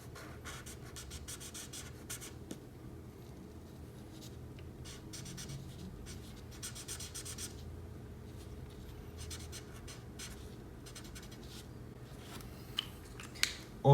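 Steady scratchy strokes of a colouring pencil or marker filling in a drawing of a Fortnite mini bus on paper, continuous and close with brief pauses, with no talking.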